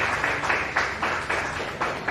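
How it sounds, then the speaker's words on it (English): Audience at a founders' day event in Hyderabad applauding a speaker, a steady wash of clapping with regular swells, moderately loud and unaccompanied by talk. "A big round of applause for Shubham."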